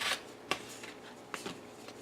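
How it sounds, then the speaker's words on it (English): A knife slices a red pepper into thin strips on a cutting board, making a few soft, crisp cuts spaced apart over quiet kitchen background. "A nice red pepper, and I'm going to slice that up"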